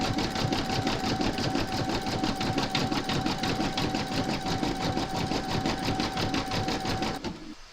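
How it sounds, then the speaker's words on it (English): A domestic sewing machine zigzag-stitches around the raw edges of fabric reindeer slippers, giving a steady, close, rapid mechanical whir that runs unbroken for about seven seconds and then stops. "You're now going to stitch round number 6, and that's going to zigzag around the raw edges."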